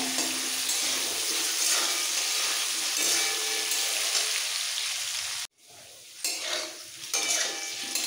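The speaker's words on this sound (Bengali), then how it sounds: "আলুগুলোকে একদম গোল্ডেন ব্রাউন করে ভেজে নেব" Potatoes for a potol chingri dish frying in oil, a steady loud sizzle with stirring and utensil scrapes, briefly dropping out then resuming with bursts of hissing.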